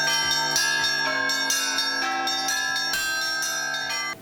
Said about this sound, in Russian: Малиновые перезвоны на много километров.